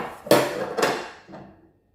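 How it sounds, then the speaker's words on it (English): A utensil scrapes chopped garlic off the plastic lid of a kitchen chopper, two sharp clattering scrapes close by, then a softer third knock that fades out, no voice. "So I'm gonna push it all down. I'm gonna scrape off what's on the lid as well."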